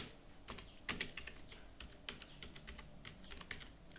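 Someone types quickly on a computer keyboard while working in Tally Prime, producing a close, steady patter of light key clicks with a few sharper taps.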